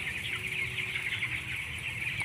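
A flock of broiler chickens fills a broiler house with a dense, continuous chorus of soft clucks and chirps, steady and even, with no talk.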